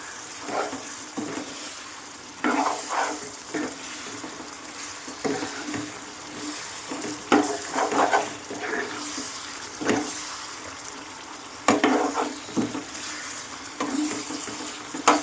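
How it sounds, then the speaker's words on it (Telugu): A chicken liver curry with masala spices is stirred and mixed in a pan, giving repeated scraping, clattering strokes over a low sizzle, with a few louder bursts spaced through the passage and no talking. "స్పైసీస్ అన్నీ వేసేసాను కదండి, ఇంకా కలిపేసుకుందాం మొత్తం."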